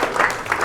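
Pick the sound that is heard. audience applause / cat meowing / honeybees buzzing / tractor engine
audience applause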